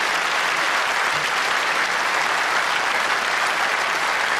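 A crowd applauds Michael Roberts at the AFL Grand Final Breakfast, a loud dense wash of clapping that holds steady from start to finish with no talk over it.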